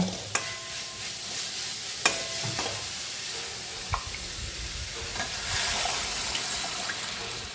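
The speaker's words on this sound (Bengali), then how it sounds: "এইবার এর মধ্যে আমি মটরটা ঢেলে দেব" Peas tip into a pan of frying onion and green chilli for Bengali-style ghugni, with sharp clicks of a spoon against the pan, scraping stirs and a soft sizzle building beneath, close and without talk.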